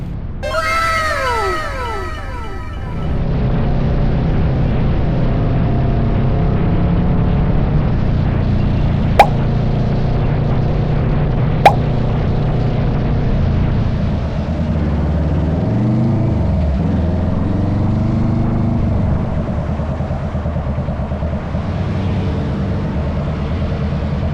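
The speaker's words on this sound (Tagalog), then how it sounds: "Napasarap ang piga ko sa throttle." An Aprilia RS 457 sports motorcycle engine drones steadily and loudly while riding, with a brief dip and rise in pitch midway. A few high, meow-like cries open the sequence before the engine takes over.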